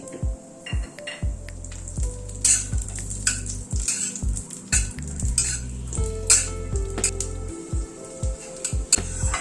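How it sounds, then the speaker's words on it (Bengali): Cashews fry in hot ghee in a kadai, a soft continuous sizzle under repeated scraping and clinking of a metal spatula against the pan, close and uneven in rhythm. "ঘিটা গরম হওয়ার পরে এখানে খানিকটা কাজু নিয়েছি, কাজুটা প্রথমে ভেজে তুলে নিচ্ছি।"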